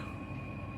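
A train rumbles steadily in the real-time strategy game Glory & Empire, with a low continuous rolling rumble and a faint sustained whine carried alone through the short moment.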